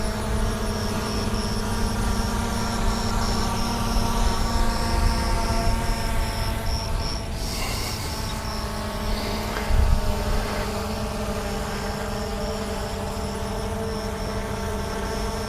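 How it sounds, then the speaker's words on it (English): DJI Mavic Air 2 drone flying an orbiting circle QuickShot, a steady high-pitched propeller whine and buzz that holds for the whole stretch, close and continuous with slight shifts as it turns. "And now the drone will start its circle, or orbit"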